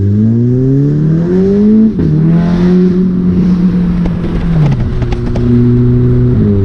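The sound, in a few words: Toyota Corolla accelerating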